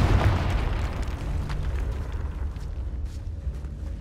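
A Confringo fire spell from the Hogwarts Legacy video game goes off in a deep explosive boom, then a rumbling, crackling tail that fades over several seconds, with no talk.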